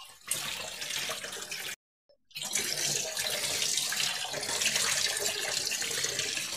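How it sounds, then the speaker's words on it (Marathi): Tap water running steadily over salt-soaked okra and drumsticks being rinsed in a kitchen sink, a constant splashing hiss that cuts out briefly and then resumes. "हे असं स्वच्छ पाण्यानं ते सगळं धुवून घ्यायचं"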